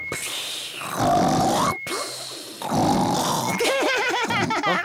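A cartoon pig imitates loud snoring, with long rasping snorts and grunts in repeated inhale-exhale swells, close and loud, ending in squealy warbling snorts.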